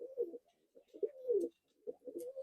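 Giribaz pigeons in a loft in Dhamua coo softly nearby in repeated throaty bursts, several low warbling calls separated by short pauses.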